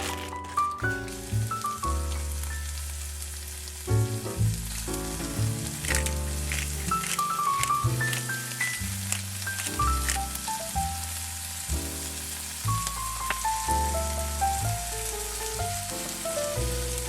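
Frozen char-grilled vegetables from Morrison's frying in a pan, giving a steady hiss and sizzle throughout, largely covered by louder background music.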